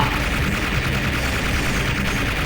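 Continuous cannon and gunfire from the arcade game Metal Slug 5, a dense unbroken wall of loud rapid shots and blasts with no pause and no voices.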